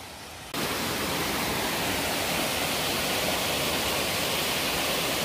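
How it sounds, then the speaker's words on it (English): A small waterfall in a rocky creek roars steadily, a loud, constant broadband rush that starts suddenly and continues unbroken, heard close with no voices. "Nice little waterfall."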